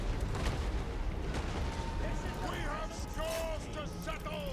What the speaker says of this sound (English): Alright, cannons, organ guns, you're free to fire at whatever you like.